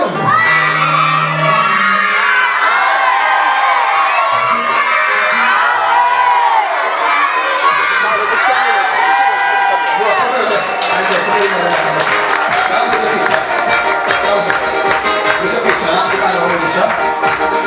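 A crowd at a children's worship gathering claps and cheers with whoops, loud and sustained, children's shouting voices mixed through the applause.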